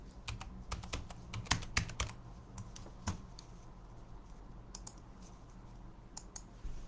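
Irregular bursts of clicky keystrokes on a computer keyboard, quick clusters followed by sparse taps, close and fairly quiet, with no talking.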